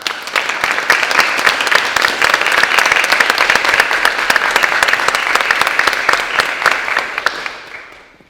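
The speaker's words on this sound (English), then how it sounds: "With a round of applause." An auditorium audience at a university evening event gives a sustained round of loud, dense applause that holds steady for several seconds before fading out at the end.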